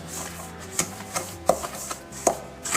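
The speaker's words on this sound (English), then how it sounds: "I'm probably sure I need to use a better whisk to get the cocoa inside with the graham crackers" A whisk taps and scrapes in a bowl as cocoa powder is worked into crushed graham crackers, giving a series of sharp close clicks and knocks at an uneven pace.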